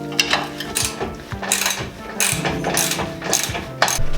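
Ratchet wrench loosening the bolts on the lower control arm of a 2023 VB Subaru WRX, heard as repeated bursts of rapid metallic clicking, close and fairly loud, with short pauses between strokes and no talking.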